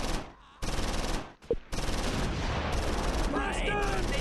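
Infantry in the WWII strategy game Close Combat IV open fire near St Hubert, with loud bursts of rifle and machine-gun fire that fill most of the clip, broken by short lulls and a single sharp crack.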